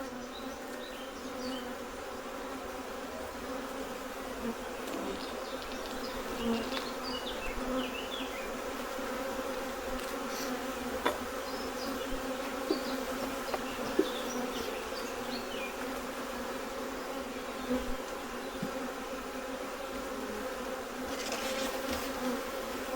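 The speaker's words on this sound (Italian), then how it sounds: "Nel telaio sono rimaste alcune api che butto dentro." Honeybees buzz around beehive frames in a dense, steady swarm hum that stays close and continuous throughout, with no voices.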